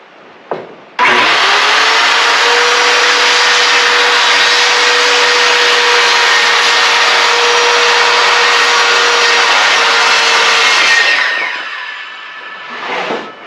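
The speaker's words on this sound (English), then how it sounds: "we're going to run these 2 through the planer" Wood boards fed through a planer: the machine roars on with a loud, steady, high-pitched cutting whine for about ten seconds, then spins down, with a brief start and a short bump at each end.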